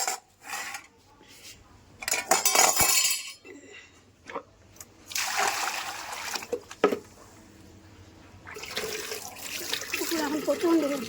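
Dishes washed by hand under a running tap outdoors in hot sun, with bursts of splashing water, faint clinks of pots and cutlery, and quiet gaps between rinses.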